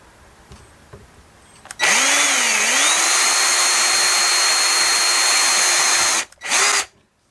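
Power drill boring a second hole during a small DIY household repair, a loud steady whine with pitch dips as the bit bites, running about four seconds, then a brief second burst after a short pause.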